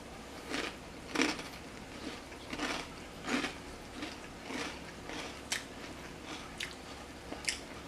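Someone bites and chews food repeatedly, with crunchy, squishy bites spaced about a second apart. The sounds are close and fairly quiet, with no talking.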